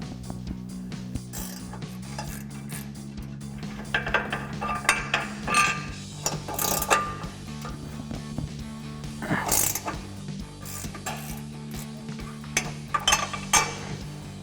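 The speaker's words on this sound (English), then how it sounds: "So now we'll take that 15mm ratcheting wrench and remove our 2 bolts." A 15mm ratcheting wrench works the crash bar bolts on a 2021-2024 Ford Bronco. Quick metallic ratchet clicks and clinks come up close in bursts over a low steady hum.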